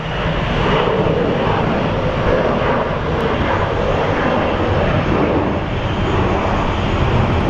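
Loud, steady roar of an Envoy jet airliner's engines at full power on takeoff at Phoenix Sky Harbor International Airport, a broad continuous rumble that holds without letup throughout.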